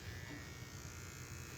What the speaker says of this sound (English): I just kind of floated the razor over the top of his tail